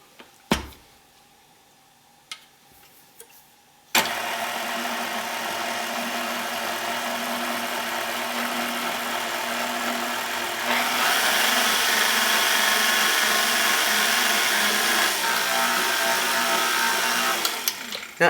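An electric mixer whirs through blueberry muffin batter, starting after a few quiet seconds with small clicks, then running as a steady loud buzz that intensifies midway and stops near the end.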